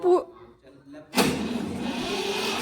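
A Mahindra tractor engine catches and then runs with a steady, fairly loud rumble after a brief exchange of speech.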